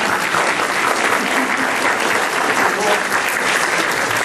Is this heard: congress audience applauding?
yes